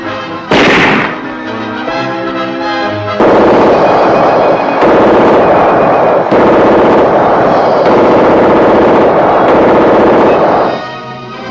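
Infantry weapons fire during 1970 US Army basic training at Fort Benning, loud sustained gunfire with bursts and repeated shots running continuously throughout, no talk.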